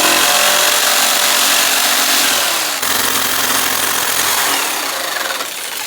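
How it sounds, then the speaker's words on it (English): Loud, continuous buzzing of a jigsaw cutting through thin board, steady and close, with a brief dip midway and no voices. "I'm gonna take the jigsaw, cut this out"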